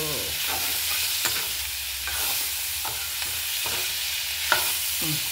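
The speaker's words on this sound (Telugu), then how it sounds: "దీంట్లో ఇప్పుడు ఎండు చేపలు వేద్దామండి" Dried fish frying in a pan for a Telugu curry with sorakaya, sizzling steadily under repeated scraping strokes of a stirring utensil.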